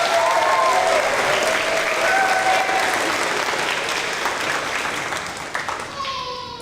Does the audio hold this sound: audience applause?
yes